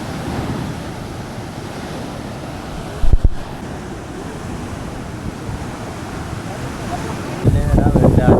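Ocean waves breaking and washing steadily on Miramar Beach beside Sinquerim Fort, a loud continuous surf roar with wind buffeting the microphone, a brief thump near the middle and a surge of swash at the end.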